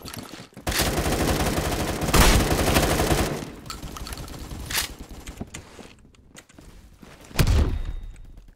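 Bursts of Type 20 gunfire in the shooter video game Phantom Forces come loud and close, with long sustained volleys, quieter gaps and one more burst near the end.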